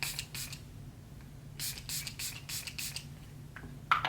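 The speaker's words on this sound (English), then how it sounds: "I'm gonna use this, if it doesn't mess up my face, the Makeup Revolution Super Fix setting spray." Makeup Revolution Super Fix setting spray is pumped in a series of short, sharp hissing bursts, several close together, heard up close in a quiet room.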